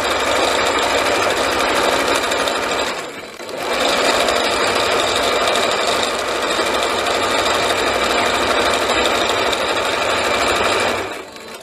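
A sewing machine stitches the hem of a Christmas-print curtain, running loud and continuous with a steady mechanical whir, pausing briefly once and then running on before stopping, with no talking.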